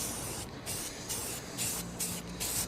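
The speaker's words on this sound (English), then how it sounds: "you want to keep your spray can" A spray paint can hisses in several short bursts while painting a wind turbine, each lasting a fraction of a second with brief pauses between, fairly close and moderately quiet.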